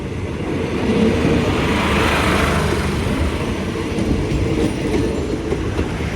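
A passenger train rumbles steadily through Bang Sue Junction railway station in Bangkok, a loud continuous roll of wheels and carriages with faint clatter, heard without any voices.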